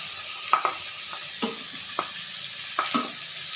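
Spice masala frying in a pan before fish head goes in, a steady hiss of sizzling oil with a few sharp scrapes and knocks from stirring.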